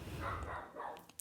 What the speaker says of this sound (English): In the background, she's barking.